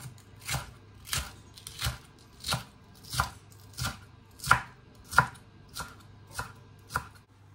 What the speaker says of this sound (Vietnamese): Mình cắt ít hành lá để lát nữa cho vào canh.